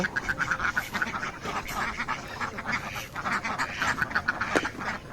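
A flock of native ducks quacks continuously on a duck farm, rapid overlapping calls close by with no speech.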